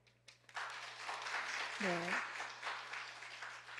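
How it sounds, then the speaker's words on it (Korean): Applause from a women's fellowship gathering at a church meeting, a steady room-filling clapping that starts after a brief spoken word and continues throughout, with a voice briefly heard partway. "박수 한번."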